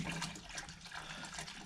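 Simple Green cleaner being poured into the hot water of a 30-liter ultrasonic cleaner tank, a steady broadband liquid wash running close and continuous with no talk.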